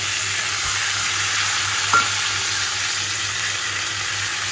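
Spice paste with turmeric and soaked matar dal fried and stirred in a pan, producing a loud, constant sizzle with a faint scrape near the middle and no voices.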